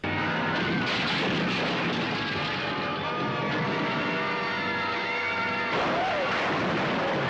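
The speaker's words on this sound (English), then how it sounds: "little planes crash and blow up" In the 1977 film Kingdom of the Spiders, a small plane crashes and explodes with a loud, sustained blast and a roaring, rumbling fireball that swells again near the end.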